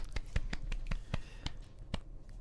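Sharp hand claps land in an irregular run of about eight, close and crisp, with a faint voice murmuring under them.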